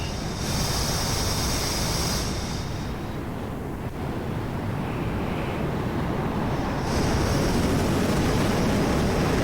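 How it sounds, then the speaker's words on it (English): An F-14 Tomcat jet powers up on an aircraft carrier deck, a loud, steady broadband roar that holds throughout, with a high whine dropping away midway and returning near the end, no voices. "F-14 powering up on the carrier"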